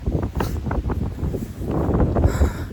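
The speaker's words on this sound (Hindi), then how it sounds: "बहुत ज़्यादा ठंडी हवा चल रही है भाई, बहुत ज़्यादा।" Strong, cold wind gusts buffet the microphone beside the Ganga in early morning, a steady low rumbling roar with rising and falling bursts and no talk.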